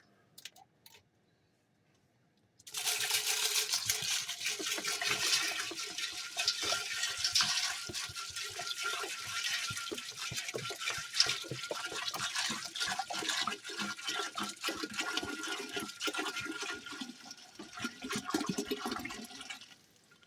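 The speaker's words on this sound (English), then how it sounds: "We have to put 1 whole gallon of vinegar in here." A whole gallon of 5% acidity vinegar being poured into a container for cinnamon candy pickles, starting after a short quiet moment and then running as a steady splashing, gurgling pour to the end.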